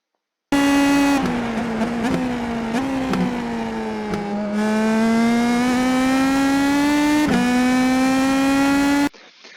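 An IndyPro2000 open-wheel race car in the iRacing simulator at Zandvoort, engine droning loud and steady, its pitch sliding down and climbing back through several gear changes, with no talk over it.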